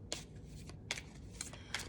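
Playing cards shuffled in four quick riffling bursts with short gaps between them, close and fairly quiet, with no voices.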